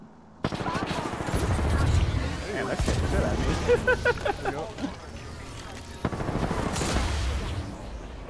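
Rapid bursts of gunfire from a shooter video game, dense and loud, repeating in clusters with a sharp new volley near the end, all under steady talk from players.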